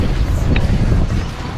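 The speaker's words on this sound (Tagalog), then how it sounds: "Mahangin pa din." Strong wind gusts at a seaside pier, buffeting the microphone with a loud, continuous low roar.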